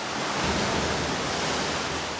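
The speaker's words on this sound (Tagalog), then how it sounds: "Ayan, dagat yan sa baba." Ocean waves surge below a tunnel in Funchal, Madeira, a broad, constant roar of surf blending with some wind rush, loud and steady without distinct breaks, and no talking.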